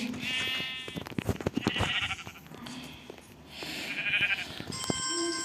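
Several Minecraft sheep bleat in bursts, some overlapping, with rustling and thumping movement between calls and a brief high electronic tone near the end.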